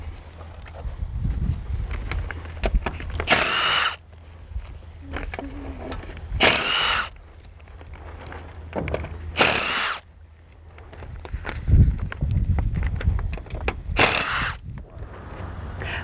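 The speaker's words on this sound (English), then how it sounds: "we're going to pull out all of these screws along the side and then remove the rope" Power drill backing screws out of the side of a high tunnel, four or five short whirring bursts spaced a few seconds apart over outdoor background noise and faint handling sounds.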